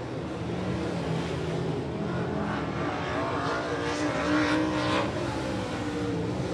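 Race car engines drone steadily through a lap during weekly division qualifying at Rockcastle Speedway, a continuous loud mid-distance roar that swells slightly as a car passes near.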